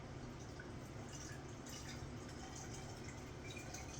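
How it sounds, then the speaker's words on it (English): Water from a small container is poured into a coffee maker's reservoir, a faint, steady trickling and splashing that runs evenly throughout at low volume with no talk. "Comes with a little container like this, and you just pour it in there"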